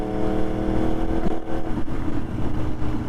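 A Yamaha R1 motorcycle surges with power while being ridden on an evening road ride. The engine roars loud and close with a dense, throbbing drone and no talk.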